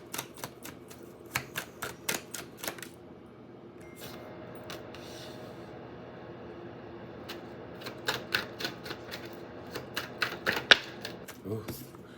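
Tarot cards are laid out one after another on a surface, producing quiet, crisp snaps and clicks in quick clusters, with a pause midway before a fresh run of placements.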